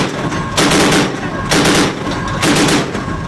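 Bursts of gunfire at night during a naval military exercise, three loud broadband volleys about a second apart, each lasting roughly half a second, with no talk over them.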